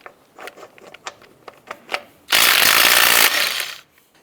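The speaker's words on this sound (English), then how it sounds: "we're going to go ahead and remove the lug nuts" Ratchet with a 19mm socket working lug nuts off a 2004-2012 Chevy Colorado wheel: a run of quick separate clicks, then a loud sustained burst of tool noise for over a second, close by, with no talk.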